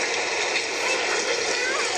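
A white noise machine plays its rain sound: a dense, steady hiss of falling rain, loud and even for the full two seconds with no breaks.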